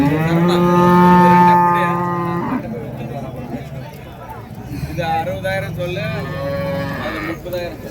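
Cattle at Kundarapalli cattle market give a long, loud moo, then more lowing calls follow, with people talking close by amid the market bustle.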